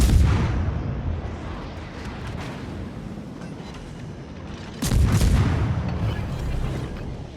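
Heavy naval guns boom in a warship battle game, two loud, close salvos a few seconds apart, each a deep blast trailing into rumbling decay over continuous low battle noise.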